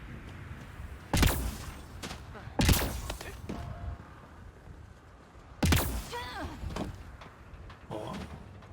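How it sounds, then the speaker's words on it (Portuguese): Gunfire in an Xbox video game set on a hostile alien planet: three sharp, loud shots, each alone, spaced a few seconds apart over a quiet, murmuring background. "Tem alguém atirando, eu escutei alguém atirar"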